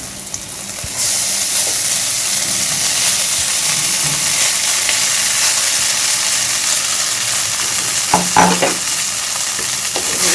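Chow mein noodles sizzle and crackle as they're stir-fried with garlic in a hot pan, a continuous hiss with brief utensil scrapes and clatter toward the end.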